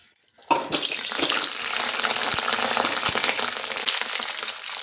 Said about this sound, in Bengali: এখন কেটে ধুয়ে রাখা ফুলকপিগুলো এর মধ্যে ছেড়ে দিচ্ছি।